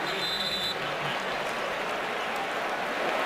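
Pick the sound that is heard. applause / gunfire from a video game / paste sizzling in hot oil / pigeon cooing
applause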